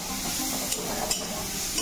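Onions sizzling as they fry in a pan, a steady close hiss with faint stirring scrapes.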